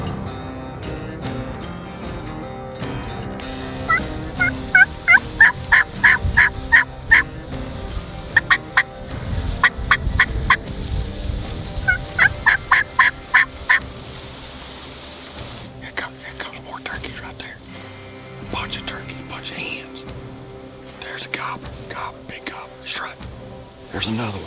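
Several wild turkeys gobble in repeated bursts of loud, rapid rattling calls outdoors near a ditch during turkey season, with hushed whispered talk underneath and rustling between the calls.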